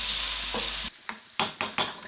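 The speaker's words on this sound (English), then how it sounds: "these are just going to fry off for about 10 minutes" Sliced leeks frying in olive oil in a pan, a steady sizzle that drops away and then returns in several short bursts, like stirring, heard close with no talking.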